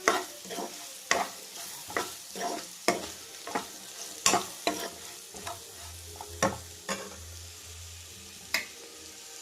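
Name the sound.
stirring dondakaya (ivy gourd) fry with spices in pan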